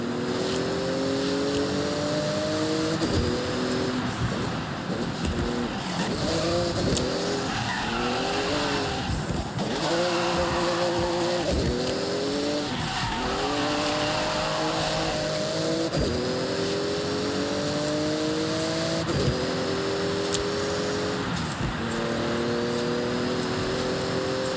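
A Porsche races flat out through a speed zone in Forza Horizon, its engine screaming loud and close with repeated upshifts and rising revs, while tires squeal and skid between the gear changes.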